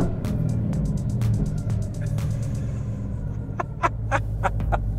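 A 1,000-horsepower Dodge Hellcat idles close by with a deep, rumbling burble, and a series of sharp ticking clicks runs over it.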